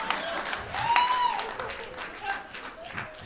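Audience applause and scattered crowd noise at a stand-up comedy show, a moderate, steady wash of clapping with a brief whistle-like tone, fairly distant and continuing for a few seconds.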